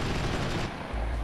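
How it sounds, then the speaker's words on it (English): Machine gun fire from vehicles in Wargame European Escalation, a rapid, loud rattling burst that briefly thins before a deep low boom closes it out. "They're shooting with machine guns, and they're doing lots of damage to my Spetsnaz"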